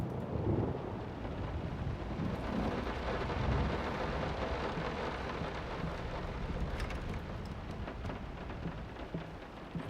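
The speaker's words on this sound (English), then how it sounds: "The thunder is extremely loud at times." Thunder in the horror game Layers of Fear rolls as a deep, continuous rumble mixed with dense rain hiss, loud and unbroken throughout.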